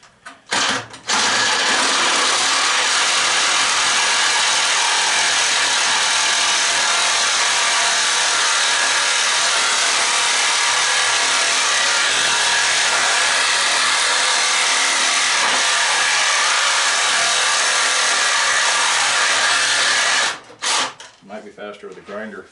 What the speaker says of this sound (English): Got the carbide blade on there, so I'm going to try to cut this bolt off of here.